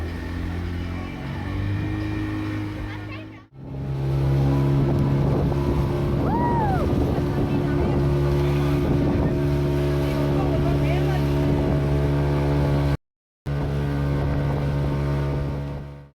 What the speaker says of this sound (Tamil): இந்த போட்டில் தான் நாங்கள் ஈக்குவேட்டருக்கு ட்ராவல் பண்ண போகிறோம்